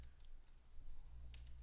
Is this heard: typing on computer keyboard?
yes